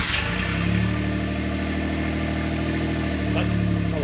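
A 1996 Suzuki Jimny engine idles with the exhaust opened up before the muffler, giving a steady, loud, low rumble that stays even throughout, with a brief faint blip near the end.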